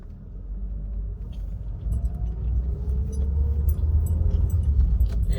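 Car driving on Pinehurst Road, heard from inside as a deep, steady road rumble that swells and grows slightly louder, with faint rattles on top.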